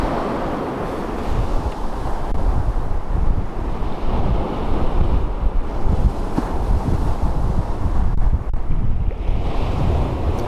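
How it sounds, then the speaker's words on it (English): Strong winter wind roars across the mic on the beach at Southsea, with waves and surf rumbling steadily underneath for ten seconds, loud and continuous with no voices. "we've got a lot of wind coming in from the right."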